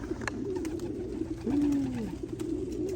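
Pigeons in an open loft coo near and low, with a drawn-out, swooping call in the middle and soft flutters and rustles around it.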